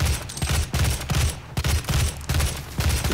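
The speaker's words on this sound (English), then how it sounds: "It's like just a hip firing machine gun." Rapid machine gun fire in the PC game DOOM, a near, loud rattle of repeated bursts separated by brief pauses, with no talking.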